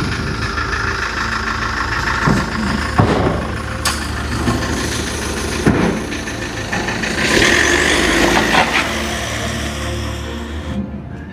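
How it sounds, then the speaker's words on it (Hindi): A truck's engine idles steadily with a deep rumble, then revs and pulls away, with hisses like air brakes and clunks along the way; no voices. "गाड़ी स्टार्ट करो।"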